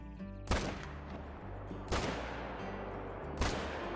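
Three loud rifle shots ring out at evenly spaced intervals in a deer-hunting video game, each a sharp crack followed by a rolling echo over a steady ambient background.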